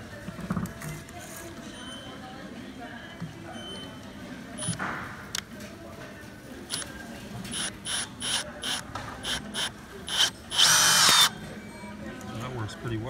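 A cordless impact driver whirs in several short bursts, then one longer, louder run near the end, with people talking in the background between bursts.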